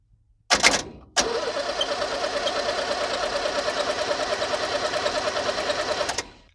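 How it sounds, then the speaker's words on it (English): A 1978 International Scout II diesel engine cranks on its starter. A short burst comes first, then a long, steady, rhythmic cranking churn lasts about five seconds and stops abruptly, close and clear with no voices. "can engage the starter again, see if it makes any noise"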